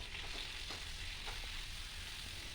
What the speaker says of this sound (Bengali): এদিকে বেগুনগুলো দেখে নিই ভাজা হয়ে গেছে নাকি